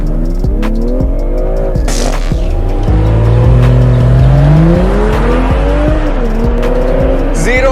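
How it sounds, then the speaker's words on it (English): BMW M340i xDrive launching hard with the throttle stamped, a loud engine rising in pitch through several gear steps with rumbling exhaust, while a person talks over it. "stamp on the brakes and stamp on the throttle, and it will give me a little message"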